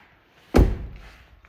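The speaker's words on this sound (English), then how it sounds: "Also fixed the door now. It actually closes." A Ford Focus ST225 car door shuts with a single loud, close slam and a short low thud that fades quickly. No one speaks.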